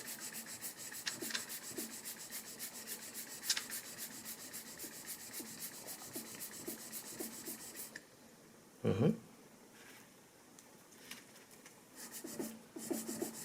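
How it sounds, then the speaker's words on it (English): A blade is rubbed back and forth on a sharpening stone in steady, repeated gritty strokes, then a pause and a shift to a new spot before the quieter strokes resume. "Notice that I moved to the new spot again for better sharpening result."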